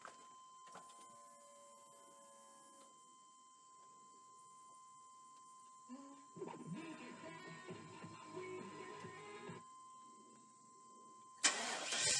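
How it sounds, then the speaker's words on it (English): A 1999 Chevrolet Silverado pickup cranks briefly and its engine catches, settling into a steady idle after a new fuel filter and relay, with a tonal whine beneath and a sharp noise at the very end. "We're going to crank this thing up and get this thing running."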